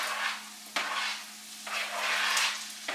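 Browned onions and corned beef fry together in a pan, giving a loud, steady sizzle that swells and breaks off with sharp scraping shifts as the mix is stirred; no talking.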